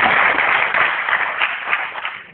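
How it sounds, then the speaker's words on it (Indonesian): An audience at a Herbalife distributor presentation breaks into steady, bright applause honoring Michael Johnson, a dense wash of clapping held at an even level with no talk. "Tepuk tangan untuk Michael Johnson"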